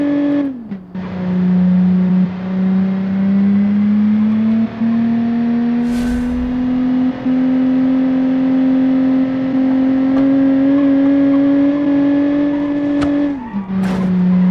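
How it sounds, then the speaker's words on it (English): A car engine in a racing game revs hard in second gear up a jungle hillclimb. It is a loud, sustained, close engine drone, with pitch dips at the gear changes near the start and the end. "Second gear on the hill. Rev the beans off it."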